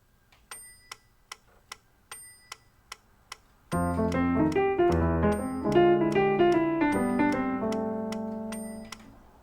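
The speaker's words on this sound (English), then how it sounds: "let's try that with the metronome" A metronome clicks steadily alone at a moderate tempo, then chords ring in over its ticks and sustain before fading.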